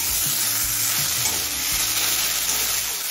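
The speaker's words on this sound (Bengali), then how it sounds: "পেঁয়াজটা হালকা লাল করে ভেজে নেব" Chopped onion fries in a pan for chicken poha pulao, a loud, dense, unbroken hiss of sizzling oil with faint low stirring underneath, close by.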